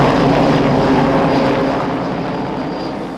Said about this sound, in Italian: In cielo vola l'elicottero dell'Arma.